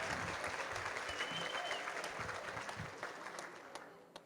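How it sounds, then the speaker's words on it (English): Audience at an awards dinner claps in sustained, dense applause that fades slightly toward the end, with faint voices mixed in. "Let's give all of them a big round of applause tonight as well."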